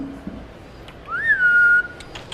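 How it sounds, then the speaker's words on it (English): A person whistles to call a pet lizard for feeding with rats, giving one clear rising then level whistle held for under a second, close and loud over a quiet room. "We actually have her trained where I whistle"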